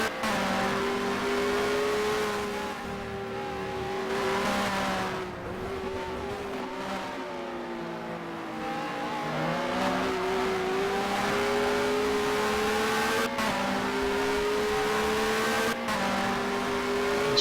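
1996 BTCC touring cars race around Brands Hatch Indy, several engines droning and shifting pitch as they pass, with revving and brief tyre squeal, heard steadily without talk.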